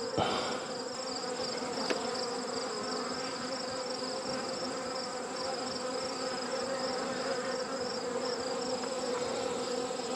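Honeybees swarm around a mating nuc, their buzzing a dense, steady drone that stays close and loud for the whole stretch, with no talking.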